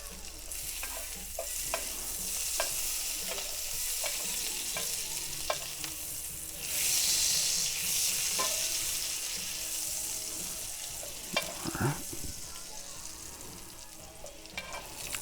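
Garlic sizzles in melted butter in a pan at a steady close hiss, with soft spatula stirs, a brief rush of running water partway through and a clatter near the end.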